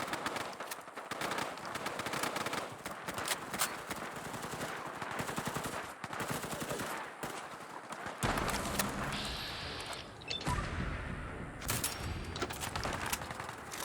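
AK-47 rifles fire in rapid bursts in the Fallout 4 video game, with dense, loud automatic gunfire rattling throughout and brief pauses between volleys.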